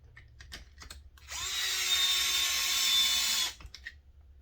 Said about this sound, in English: with the driver most of the way and then finish it off by hand so I get the torque feel like I want.